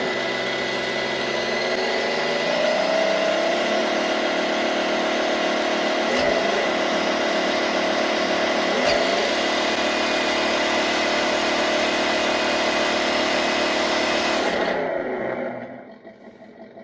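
A Tamiya MFC-02 radio-controlled Ford F350 4x4 with a stock 540 electric motor, run in first gear, gives a steady loud whine and hum for about fifteen seconds before winding down and stopping.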